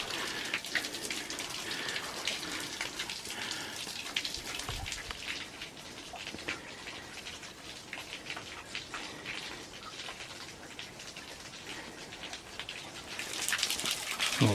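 A thin trickle of water at a small lower waterfall in Bankhead National Forest, Alabama, a soft, even wash of splashing and dripping that holds steady, faint and close, with no voices.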